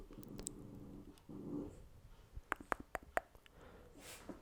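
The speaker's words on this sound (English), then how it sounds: "that's my dog making some noises." A dog making noises close by in a quiet room: a few low muffled rumbles, then a quick series of sharp clicky snorts or smacks, faint and intermittent with no talking.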